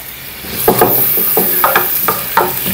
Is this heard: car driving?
no